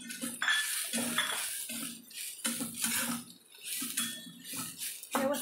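Grated fresh coconut roasting with onion in a pan for Malvani chicken masala, heard as repeated scraping and clattering of a spoon against the pan in bursts, close and moderately loud, with no talking.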